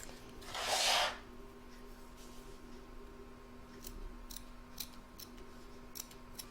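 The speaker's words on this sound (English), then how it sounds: "This time I'm going to trim up the bottom of the neck here." Scissors snip through fabric at the bottom of an appliqué Easter bunny's neck in one short, close burst of cutting, then quiet room tone follows.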